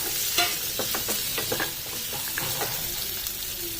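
Cashews tumble into frying masala for paneer butter masala, a run of stirring clicks and scrapes over a gentle steady sizzle, close and moderately quiet, with no speech.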